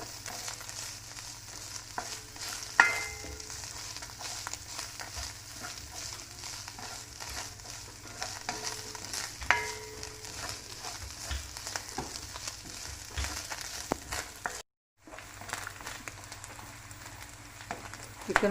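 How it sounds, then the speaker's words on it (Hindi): Chicken sizzles and fries in a pan for a chicken vegetable macaroni, a steady crackling hiss with occasional stirring clatters and a brief pause near the end, close and fairly quiet with no talk. "चिकन को अच्छी तरह भून लेना है कि इसकी कोई स्मेल ना आए।"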